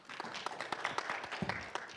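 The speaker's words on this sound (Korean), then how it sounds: "박수로 청해 듣겠습니다." Audience at an academic lecture on transformative education applauding, a fairly quiet, steady patter of many hands clapping from across the room.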